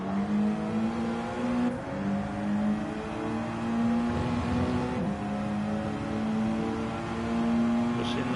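Mazda 3 front-wheel-drive race car in a racing video game at Mount Panorama, its engine holding a steady loud drone with a brief lift and pitch dip midway, then climbing again.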